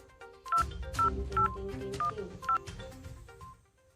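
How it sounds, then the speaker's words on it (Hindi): A run of telephone keypad tones as a number is dialed, six short bright beeps over a low steady hum and muffled background sound. "फोन लगाया जाए"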